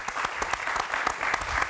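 An audience breaks into steady, dense applause for Marie, many hands clapping at once in a continuous wash of claps at a fairly even loudness throughout.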